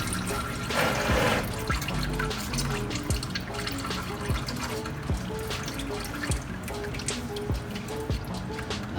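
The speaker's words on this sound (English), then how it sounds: "And as soon as it comes off, you'll see all the oil start to pour out. There we go, here comes the oil." Engine oil from a Jeep Wrangler pours steadily into a drain pan once the drain plug comes off, a continuous close liquid splashing and dripping with no talk.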